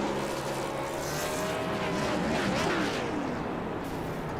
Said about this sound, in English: A little hard to do burnouts here.